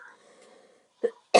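A single short, sharp cough bursts out at the very end, close and loud, after a faint voiced murmur and a brief throaty sound in an otherwise quiet podcast setting.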